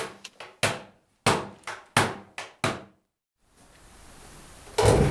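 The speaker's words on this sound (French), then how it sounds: "je vais pas lésiner sur les coups de marteau et je vais faire rentrer le fond bien au fond de la rainure" A series of sharp hammer blows driving a wooden panel into a groove, about eight hits in an uneven rhythm, followed by a quiet pause and a rising rustle.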